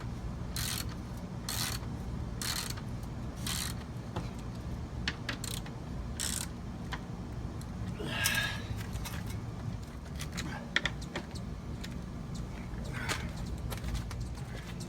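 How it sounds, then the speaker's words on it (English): Bolts go into the hinges of a gate under repair, heard as a long run of close metallic clicks and ratcheting strokes with short pauses, and a brief louder scrape near the middle, with no talk. "now I'm going to attach the bolts into the hinges so this, hopefully this gate swings freely"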